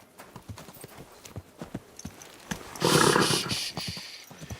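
A horse in Kingdom Come: Deliverance II clops along at a walk, its hooves landing in an uneven, close rhythm, with a sharp, breathy snort bursting out partway through.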